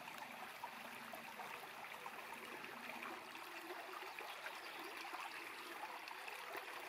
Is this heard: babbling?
yes